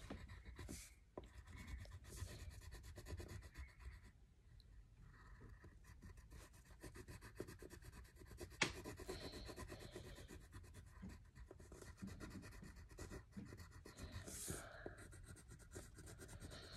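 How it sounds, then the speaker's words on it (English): Crayon colouring on paper during an art lesson: continuous soft rubbing and scratchy strokes for a long stretch, close and fairly quiet, with no talking. "I'm going to color it with crayon."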